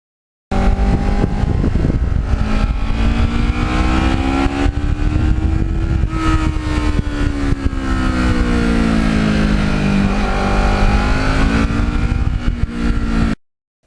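A black Kawasaki Ninja motorcycle rides northern New Jersey back roads, its engine loud and close with wind rush, the pitch rising and falling steadily through gear changes and throttle shifts.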